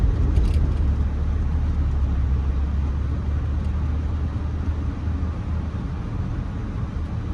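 A large truck rumbles by on a neighborhood street at 10th Ave and 26th Street in Tampa's East Ybor area, a steady heavy low-frequency engine drone holding nearly constant and close throughout.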